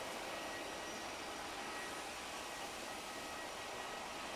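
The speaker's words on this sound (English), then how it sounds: "this one's a roller, Rolls-Royce powered A380 destination Dubai" Steady broadband jet roar from an Emirates Airbus A380 with Rolls-Royce engines bound for Dubai, a continuous hiss-like rush with no talk, even in level throughout.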